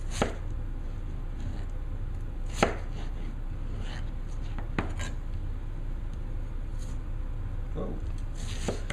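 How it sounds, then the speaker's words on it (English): A knife slices an unpeeled potato into fries on a cutting board, with sparse, irregular chops and clicks scattered over a steady low kitchen hum and no speech. "This is just an easy technique for making quick fries without peeling the potato."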